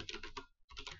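Rapid clicking on a computer keyboard while entering code, two quick bursts of close keystrokes separated by a brief gap.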